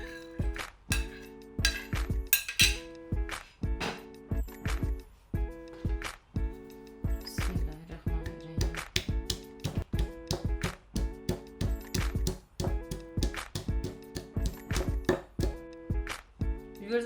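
Garlic and green chillies being crushed for chutney, a steady rhythm of dull pounding thumps repeating close by over soft background music.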